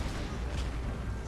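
Cannon artillery fire in a strategy war game, a dense rumbling volley of booms blending into a continuous low roar, with no distinct single shots.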